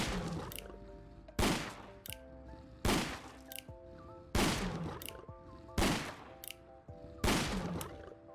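Six heavy revolver rifle shots fired at a Deathclaw in Fallout 4, each a sharp loud blast with a ringing tail, spaced roughly every 1.5 seconds against a steady droning game ambience.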